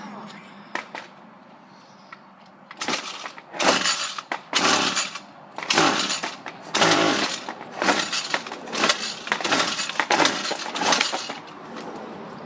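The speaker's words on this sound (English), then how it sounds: "I did another cold start on my blower here." A small gas leaf blower or weed eater is being cold started: about ten loud, rattling pull-start bursts come in a rough, uneven rhythm and sputter without the engine settling into a steady run.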